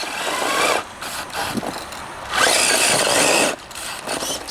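Capo Ace 1 4x4 RC rock buggy crawling in low gear, a small electric motor whining in uneven surges with gritty scraping as it climbs and pauses, close and fairly loud, with no talking.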